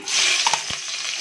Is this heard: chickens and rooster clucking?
no